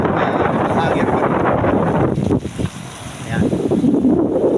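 A coast guard speedboat runs on a windy sea during stormy weather, its engine and hull slap blending into rough wind and wave noise that dip briefly midway before surging back up, close and loud.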